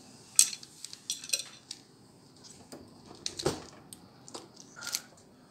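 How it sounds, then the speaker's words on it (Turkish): A Bosch dishwasher door is opened up close: quiet, scattered clicks and short metallic rattles from the door and racks, with no talk. "Bosch marka bir bulaşık makinesi. Şöyle kapağını açalım."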